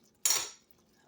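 Spoon stirring vanilla into peanut butter fudge in a pot, a single short metallic scrape and clink, fairly faint and alone.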